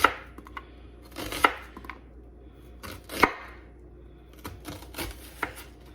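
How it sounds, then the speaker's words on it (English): A knife slices onions into rings on a cutting board, making a series of crisp, close chops. The cuts come in short irregular bursts separated by brief pauses, with no talking. "for the onions, I'm just going to cut these"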